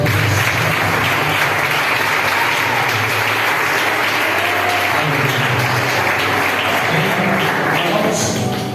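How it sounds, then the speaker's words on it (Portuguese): Church congregation at an evangelical worship service applauding, loud sustained dense clapping from a large crowd that fills the whole stretch without a break. "Vamos aplaudir o Senhor."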